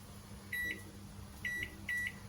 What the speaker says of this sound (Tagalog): Ayan guys, initin ko siya sa microwave namin.